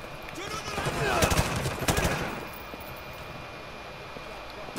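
Gunfire in the Call of Duty: Modern Warfare 2 campaign, a dense cluster of rapid automatic shots peaking mid-clip, then easing into a steady rumbling battle din.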